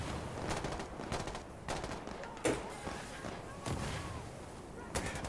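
M16 rifle fire in a video game, a series of sharp gunshot bursts spread across the moment amid steady game background noise, with a louder crack near the middle and another near the end.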